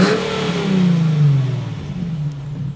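A Honda Civic Type R car engine revs with its exhaust valve closed, a loud, close rising whine that peaks and then settles back toward idle, with no talking.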